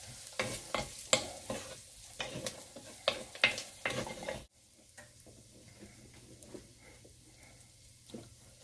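Sweet potatoes and vegetables cook in a pan, first with a run of close spatula scrapes and clatters over the frying, then settling into a quieter, steady low sizzle.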